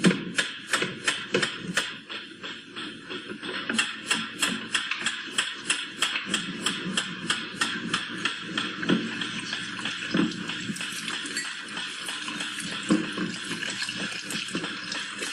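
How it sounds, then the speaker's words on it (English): A ticking metronome beats out steady, evenly spaced sharp clicks, each one crisp and distinct, sounding on its own for the whole stretch. "A ticking metronome."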